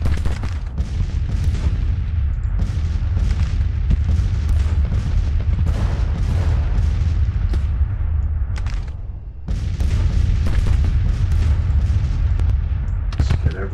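Civil War troops open fire in the video game Grand Tactician: Civil War, a loud, continuous rattle of massed musket volleys and booming artillery, with a brief lull before the firing resumes.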